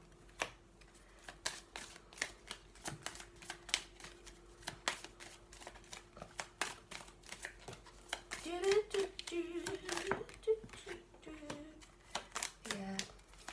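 Tarot cards drawn and shuffled by hand, a run of crisp repeated flicks and riffles spread across the whole stretch, close and moderately loud, with a low steady hum beneath and some handling noise toward the end.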